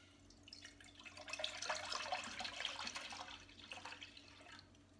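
Plant milk poured from a carton into a pot for vegan spiced hot chocolate: a continuous soft splashing pour lasting several seconds, close and fairly quiet, with no voices.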